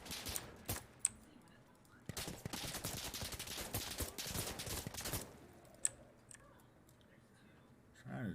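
Rifle gunfire in Insurgency Sandstorm on console: a few sharp shots, then a dense burst of rapid automatic fire for about three seconds, followed by scattered single shots, fairly quiet overall.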